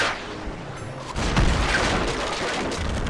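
Ship cannon fire in the naval combat game Pirates of the Burning Seas, a deep boom about a second in, followed by a rumbling crash and sustained roar of battle noise.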